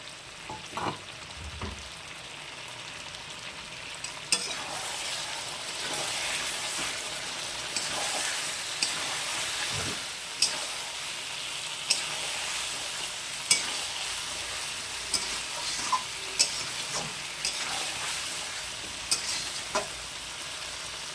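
Chicken curry with fried potatoes stirred in a pan, giving a steady close sizzle of frying throughout, broken by sharp scraping clicks of the spoon against the pan.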